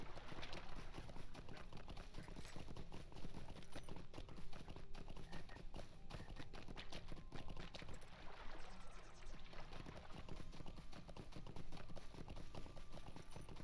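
Horse hooves clip-clop steadily and continuously in the video game Lord of the Rings Online, a dense rhythmic patter over constant game ambience with no talking.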